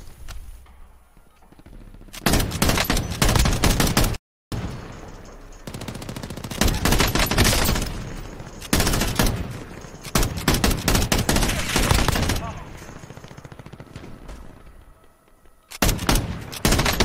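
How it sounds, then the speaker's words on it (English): Bursts of rapid gunfire from a multiplayer shooter video game, loud and close, coming in several dense volleys separated by brief pauses, with one sharp dropout to silence partway through. "Crimson, I'm shooting at you."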